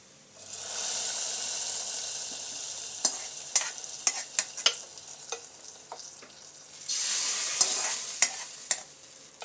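Liquid is poured into a simmering, well-reduced mango curry in a pan. A loud steady sizzling hiss swells twice, with a run of sharp utensil clicks and taps between the bursts. No voices.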